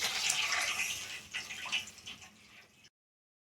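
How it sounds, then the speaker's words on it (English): A glass of water poured into a cooking pan of Maggi noodles with curry leaves gives a steady, close splashing rush for about three seconds, easing slightly before it stops abruptly. "Now I'm adding water"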